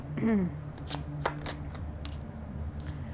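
Tarot cards are shuffled by hand in a few quick riffling bursts, close and soft, after a short spoken vocal sound at the start.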